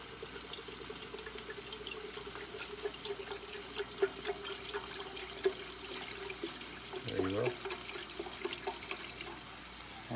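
Chicken broth poured into a pot for ramen soup, a soft, steady trickle of liquid running continuously for about ten seconds at moderate distance.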